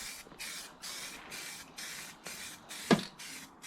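Aerosol primer sprayed in bursts inside a BMW E36 engine bay, a steady close hiss that pauses about every half second for a short run of repeated sprays, with a sharp knock near the end.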